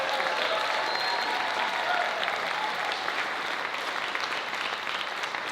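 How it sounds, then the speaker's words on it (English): Sustained audience applause for a high school concert band's percussion section at an end-of-year concert, a dense steady wash of clapping from a large crowd filling the whole stretch. "How about another round of applause for our percussion section?"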